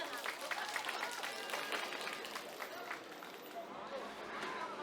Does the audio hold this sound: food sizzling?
no